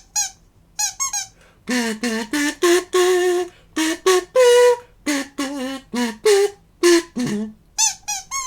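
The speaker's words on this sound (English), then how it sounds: "Frank's squeaky toy trick." A squeaky dog toy squeaks loudly and close by in quick repeated bursts during a trick at a public library show, some squeaks bending up and down in pitch, with brief pauses between.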